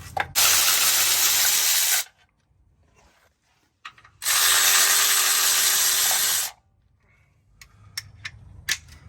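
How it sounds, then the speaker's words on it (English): A ratchet breaks loose 10 mm oil pan bolts on a Chevy 1500 pickup, giving two long, loud bursts of rapid clicking separated by a pause, followed by a few scattered single clicks. "Do all that you can reach with the ratchet."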